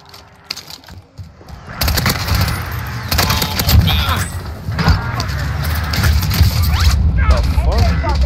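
Call of Duty Warzone gunfire: bursts of rapid automatic shots and crashing impacts, loud and close, layered over continuous game noise and a rumbling vehicle.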